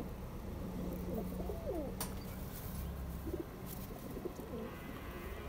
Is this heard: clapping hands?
no